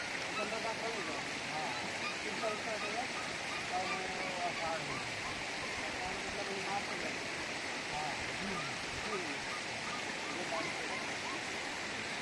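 Steady broadband rush of the Mukkha waterfall flowing, a continuous even roar with no breaks, heard from nearby at a moderate level.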